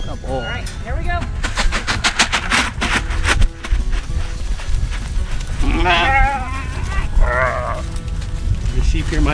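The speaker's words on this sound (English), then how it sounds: "The sheep hear my voice and come." Sheep running toward a farm gate bleat repeatedly in overlapping, wavering calls, some close and loud, amid scuffling and background noise, with a person talking at times.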